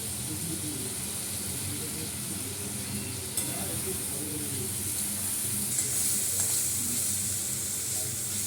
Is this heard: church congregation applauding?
no